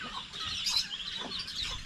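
Native chickens cluck softly and steadily at close range on a farm, making a short run of low, throaty calls with no talk over them.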